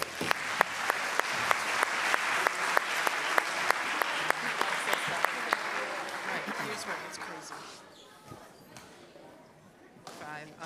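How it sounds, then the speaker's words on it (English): An audience at a school academic bowl applauds the 8th grade team, a broad burst of clapping punctuated by regular sharp thuds, then fading into quieter murmuring and scattered noise after about eight seconds. "let's give 8th grade a round of applause"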